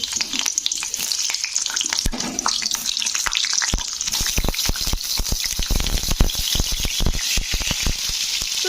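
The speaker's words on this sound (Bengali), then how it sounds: "তো তেলটা কিন্তু আমার গরম হয়ে গেছে তো এবারে আমি এক একটা পটল দিয়ে দিচ্ছি তেলের মধ্যে" Pieces of pointed gourd (potol) drop one by one into hot oil in a home kitchen pan and sizzle loudly, the frying crackle building and staying steady close up, with sharp spitting bursts as each piece goes in.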